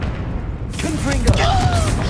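A fiery Confringo blast spell bursts in the Hogwarts Legacy game, a booming explosion landing about a third of the way in over steady battle noise, with a voice calling out over it.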